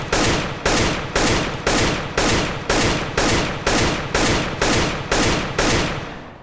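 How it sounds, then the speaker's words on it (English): Rapid bursts of automatic rifle fire in Counter-Strike: Global Offensive, about ten short loud volleys in a steady rhythm with brief gaps between each while the player strafes side to side. "I was firing only when the crosshair came back together after strafing"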